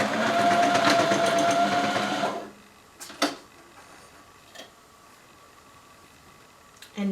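Sewing machine running steadily for about two seconds while back stitching a skirt seam, then stopping, followed by faint handling clicks and small taps.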